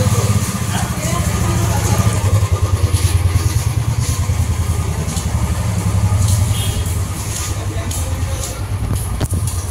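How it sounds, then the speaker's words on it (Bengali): A nearby motorcycle engine idles with a steady, throbbing putter, fairly loud and continuous, with a few brief clicks and knocks toward the end. "মৃণাল নিয়ে নিয়েছে বাইকটা বাইরে।"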